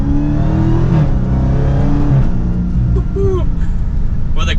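A Dodge Charger SRT Hellcat Widebody accelerates in second gear with a loud, close engine roar whose pitch rises and shifts, while someone talks over it.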